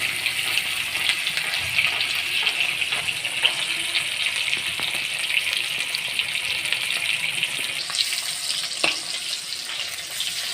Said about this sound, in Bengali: তেলটা গরম হয়ে গেছে, আমি একটু ভেজে নেব।